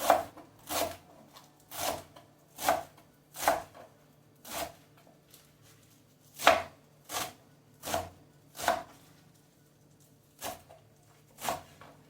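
A knife chops fresh callaloo into small pieces on a board in a home kitchen, about fifteen steady, crisp thuds at an even rhythm, close and clear with no talking.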